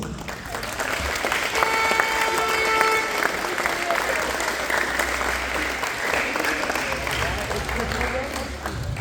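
Loud, sustained applause for the losing teams at a school dodgeball championship awards ceremony, with pupils from grades 5 to 7 in a hall, thick continuous clapping with crowd noise and a few whistle-like tones over it.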